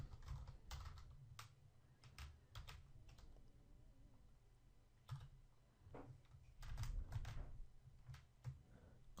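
Numbers are keyed in on a computer keyboard in quick, irregular bursts of close, crisp key clicks, with short pauses between runs over a quiet background.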